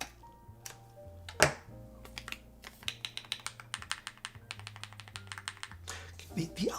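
Alpha keys on a GravaStar V60 Pro mechanical keyboard are typed on in quick, irregular bursts of close, crisp clacks, with one louder thunk early on and brief pauses between runs.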